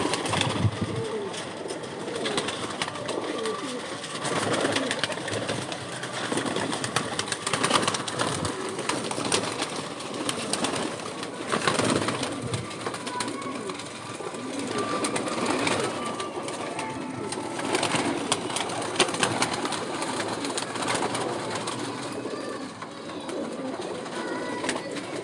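A flock of pigeons coos steadily on a rooftop loft, with layered overlapping calls, occasional wing flaps and a faint engine hum in the background, with no talking.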